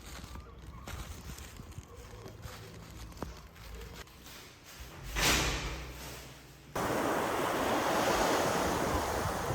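Baltic Sea waves wash onto the shore at Gdańsk, Poland, under gusty wind buffeting the microphone, the surf swelling louder and steadier toward the end.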